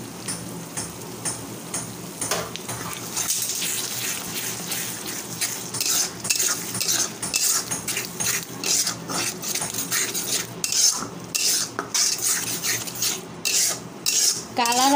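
Coriander leaf and green chili paste being stirred into a cooking pot, with a steady run of metal spoon scrapes and clinks against the pot over a faint sizzling background, close and continuous.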